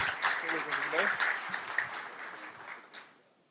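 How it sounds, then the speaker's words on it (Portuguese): Applause from a seminar audience at an election analysis event, moderate clapping that fades out over a few seconds, with a voice briefly at the start. "Uma salva de palmas para o Lucas"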